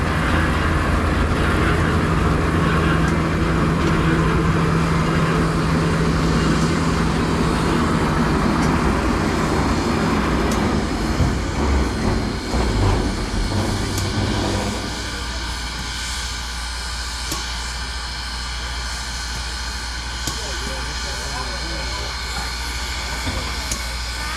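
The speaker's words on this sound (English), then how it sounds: "we're going to take the locomotive down past our consist on track 1" A heavy diesel locomotive, number 4501, rumbles steadily at close range as it moves along the track past its train, its engine drone loud and continuous, then settles into a lower, steadier hum.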